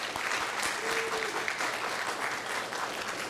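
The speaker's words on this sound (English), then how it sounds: "Let's give them a round of applause." People at a county commissioners' public meeting give a steady round of applause, moderately loud and even for a few seconds, with no one speaking over it.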